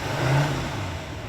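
A 2020 GMC Sierra Denali 2500 HD's Duramax 6.6-liter V8 turbodiesel revs briefly, a steady low rumble swelling then easing slightly over a second and a half, fairly close with no voices.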